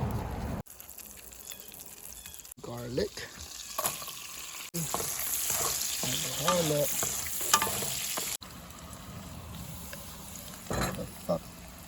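Onions and garlic fry in a pan, crackling and sizzling loudly while being stirred, with abrupt jumps in level and a voice talking over parts of it.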